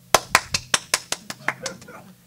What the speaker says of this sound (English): I clap hand